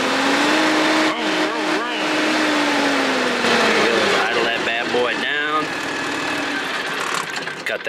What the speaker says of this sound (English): Foot on the brake here to start her up. Fires right up.